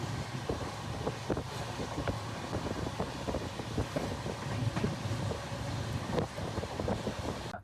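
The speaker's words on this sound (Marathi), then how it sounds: "ही ट्रेन आहे आमची मुंबई हैदराबाद" The Mumbai–Hyderabad train at Solapur station produces a continuous low rumble with scattered clanks, partly buried under steady wind buffeting on the microphone.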